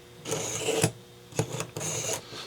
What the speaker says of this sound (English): I'm pulling it through the ceramic side